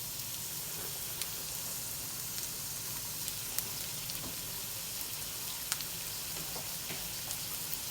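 Chopped white onion sautés in a hot pan for enchilada filling, giving a steady, close, even sizzle with scattered small pops throughout.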